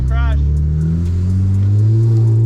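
A Chevrolet Camaro engine revving while driving through trees, a loud close rising drone whose pitch climbs steadily over a couple of seconds, with a brief voice-like sound near the start.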